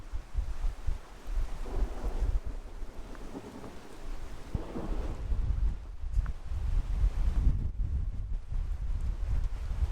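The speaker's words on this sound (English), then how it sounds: "days have been ending in thunderstorms" Low rumbling thunder rolls during an evening thunderstorm, mixed with gusting wind buffeting the microphone and a wash of rain, with no voices.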